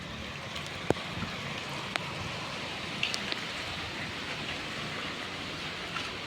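Steady rain hisses as a broad, even wash outdoors, with a few faint drips and taps standing out on top, moderately distant and soft, with no voices.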